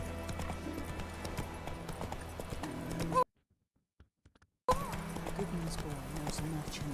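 In The Witcher 3, the horse Roach gallops with rapid, rhythmic hoofbeats under game ambience and voices, broken by a sudden gap of silence before the galloping resumes.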